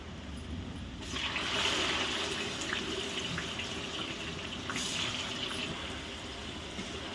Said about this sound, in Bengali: এবার গরম তেলের মধ্যে আস্তে আস্তে করে ছেড়ে দিতে